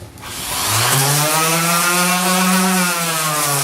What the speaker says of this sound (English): sanding on this 2x4 without the suction of the dust collection